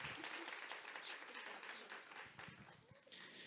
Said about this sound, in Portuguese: eu queria uma salva de palmas para a Pupileira, mas para a Gabi em especial.